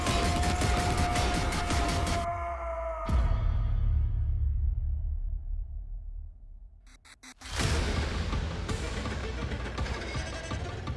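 Rapid gunfire and whooshing effects in the Mortal Kombat 11 Ultimate trailer, loud dense bursts that drop out to near silence before a renewed barrage, with no voices over it.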